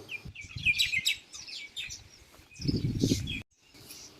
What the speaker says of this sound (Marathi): पक्ष्यांचा चिवचिवाट ऐकायला येत